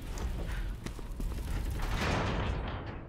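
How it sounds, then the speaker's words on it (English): Booming explosions in Resident Evil 6 thud in quick succession with crackling debris and a rising rumble toward the end, no talking. "So many explosions."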